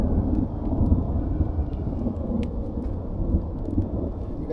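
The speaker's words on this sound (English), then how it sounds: "Matter of fact, it's thundering now." Thunder rumbles through a steady rainstorm in a backyard garden, a continuous low rolling roar with heavy rain hiss beneath it, fairly loud and unbroken.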